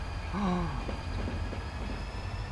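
A train in the Transport Fever rail simulation game rumbles steadily at close range, with a brief high wheel squeal near the start and a low continuous drone beneath it.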